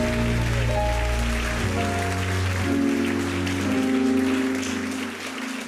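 A church congregation claps steadily and continuously under sustained keyboard or organ chords that shift pitch, the applause forming a dense, even patter throughout.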